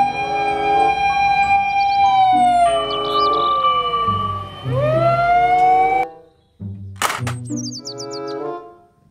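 A toy fire truck blares a wailing, warbling siren that rises and falls loudly for about six seconds, then cuts out and gives way to short chirpy electronic tones.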